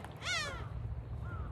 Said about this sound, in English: Is this what a heron noise is?